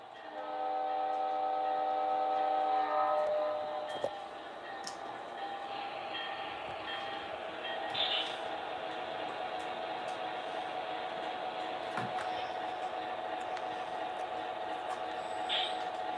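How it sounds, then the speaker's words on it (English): O gauge model trains run on a home layout, a steady close rumble with a sustained horn tone sounding for the first few seconds, then continuous rolling wheel noise with faint clicks. "I'll stop the trains for a little bit so you guys can have a little better look at the layout here"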